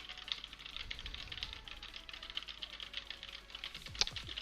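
Typing on a Corsair mechanical keyboard with brown switches, a steady run of quiet, close keystrokes with soft clacks and occasional louder taps, heard faintly as if through a headset microphone.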